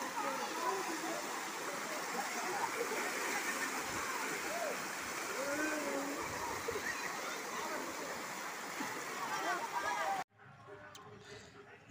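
A forest waterfall at Meenvetti Parai near Srivilliputhur roars as a dense, constant rush of falling water, loud and close, before cutting abruptly to quieter ambience near the end.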